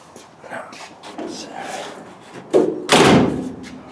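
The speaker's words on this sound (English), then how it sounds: "Door closes nice actually" A car door on an untouched classic car swings shut with a solid thump, preceded by softer handling noises and shop rustling.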